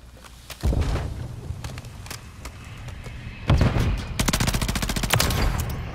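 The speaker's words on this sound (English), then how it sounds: "I'm getting shot, getting shot." Bursts of automatic gunfire in Modern Warfare III multiplayer, a sharp opening burst followed by a heavier, sustained stretch of rapid shots and clatter near the end, loud and close.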